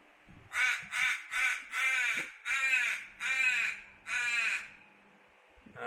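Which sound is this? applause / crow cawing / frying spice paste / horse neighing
crow cawing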